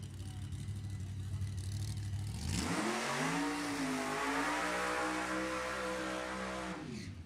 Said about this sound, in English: Long, smoky John Force burnout for Ken Brynison.